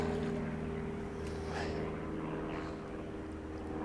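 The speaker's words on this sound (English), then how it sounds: "The old aeroplane's going over again." An old propeller aeroplane passes overhead outdoors by a fishing bank, a steady low engine drone holding throughout at moderate distance with faint background ambience.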